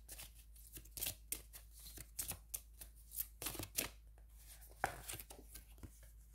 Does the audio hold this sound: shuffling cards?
yes